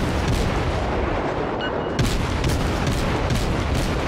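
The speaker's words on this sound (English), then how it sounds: "We lost another ship, we're gonna keep firing at the Langley." Warship guns in World of Warships, a Kolberg cruiser firing high explosive shells at a Langley aircraft carrier, as dense, loud, continuous booming gunfire and explosions with repeated sharp blasts.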